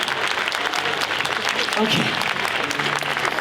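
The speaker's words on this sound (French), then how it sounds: "vous allez pouvoir l'applaudir bien fort à nouveau" A large audience at a mentalism show in the Zénith arena in Strasbourg claps in a dense, steady burst of applause, while a performer speaks briefly over the clapping.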